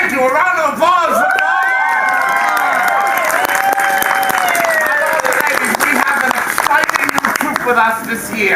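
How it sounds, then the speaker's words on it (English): Loud, sustained audience applause with cheering and whoops fills a medieval-themed performance show, a dense, steady wash of clapping mixed with crowd voices that carries on throughout. "A round of applause for"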